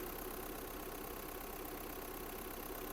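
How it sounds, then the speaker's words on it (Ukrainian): A Volkswagen Golf VI with an automatic gearbox idles steadily, its engine giving a faint, even, continuous hum throughout with no speech. "Двигун працює чітко"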